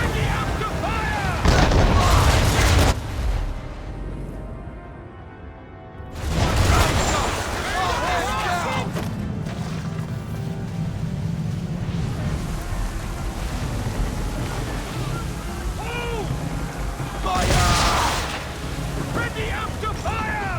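Ship cannons firing during a naval battle in Assassin's Creed, heavy booms with wind and water rumble underneath, while crew voices shout commands over the action.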